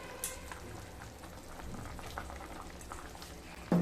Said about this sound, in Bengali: তরকারিটা ফুটে এসছে।